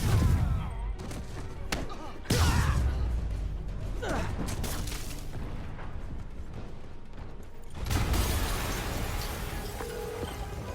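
Heavy in-game blasts and thuds from Spider-Man on PS4, with a loud booming hit near the start, another at about eight seconds, and clattering mechanical impacts in between.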